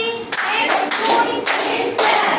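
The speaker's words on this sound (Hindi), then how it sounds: "मु कहबी जेते ताली मारिबो सेते" Children clapping hands together in unison in a classroom activity while counting, several sharp group claps at a regular rhythm, near and loud, with voices heard between claps.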